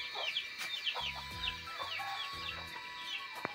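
Chickens and a chick feeding on rice in a yard give soft clucks and low repeated calls, faint and close, with thin bird chirps in the background.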